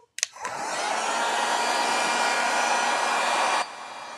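A hair dryer blows steadily to dry decoupage glue on a cigar box, starting after a brief click and running as a loud, continuous broadband whoosh for about three seconds before dropping to a lower setting.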